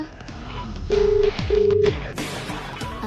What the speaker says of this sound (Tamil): யார் மேடம் ஃபோன்ல? அகிலாமா கால் பண்றாங்க.